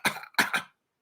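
Three quick, sharp coughs come in two close bursts, near and fairly loud, then silence.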